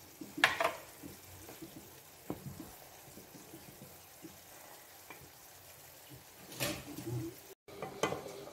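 Mango kasundi simmering in a pan, stirred now and then: a low bubbling bed with scraping spoon strokes and a few louder clatters near the start and end, close by, with no talking.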